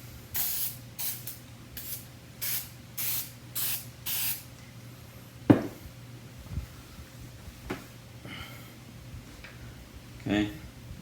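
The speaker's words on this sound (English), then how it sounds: "Spray it on." Plastic polish is sprayed from a trigger spray bottle in about seven quick hissing bursts in a row, followed by a few soft knocks and handling sounds in a quiet room.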